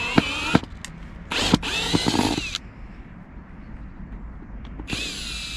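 A power drill backing out large screws on a job in Germany, three or four loud whirring bursts of a few seconds each with pauses between, close by and without talk.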